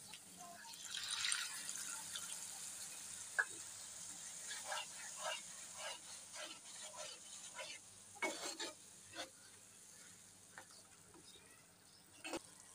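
A little water hits spices in a hot frying pan, a faint sizzle and scattered stirring scrapes that flare up in quieter bursts, close and without talk.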